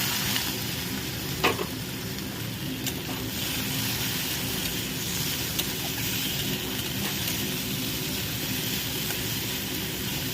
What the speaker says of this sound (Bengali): এবারে যে টমেটোটা কুচিয়ে রেখেছিলাম সেটা দিয়ে দিলাম।